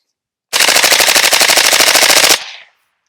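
FRT-15 forced reset trigger rifle fired rapidly downrange outdoors: one continuous, loud, evenly spaced string of shots lasting nearly two seconds, then a short fading echo, with no talking.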